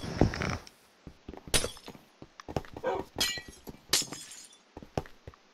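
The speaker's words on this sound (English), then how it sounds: "destroy the glass" Glass blocks break in the Minecraft video game, giving a series of short, crisp shattering bursts at irregular intervals, each followed by a quiet gap.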